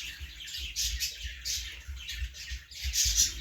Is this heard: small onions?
no